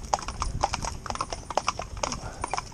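Horse hooves clip-clop at a steady walking pace on a hard surface, a quick, regular series of sharp knocks, fairly close, with light background noise and no talk.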